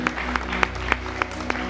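A church congregation at a New Year service claps together for Jesus in a firm, steady rhythm, about six sharp beats in under two seconds, over a low background hum.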